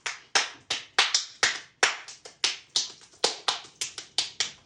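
Hand clapping in a solo, a rhythmic run of crisp sharp claps about three per second, close and dry, with no other sounds.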